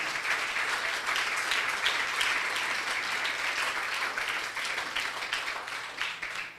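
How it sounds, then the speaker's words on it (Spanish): A church congregation applauds for Jesus with sustained, dense clapping that fills the space evenly from start to finish and tapers only slightly at the end. "Dele ese aplauso al Señor Jesús."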